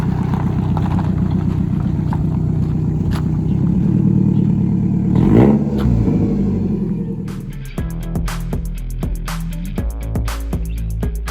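A dirt track Toyota Camry is driven onto a trailer. A loud engine idles and revs, then its tone drops, giving way to a run of sharp metallic clanks and knocks as the car moves up the ramps.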